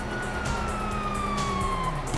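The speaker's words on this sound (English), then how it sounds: "You hear that? Sirens!" A police siren in the video game Grand Theft Auto 5 wails, sweeping slowly downward over a steady rumble of engine noise, continuous and fairly loud throughout.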